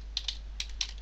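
Light typing on a computer keyboard while writing in Notepad, four or five soft, separate key clicks at an uneven pace in a quiet room.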